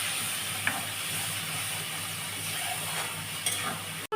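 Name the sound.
spice masala frying in oil with sugar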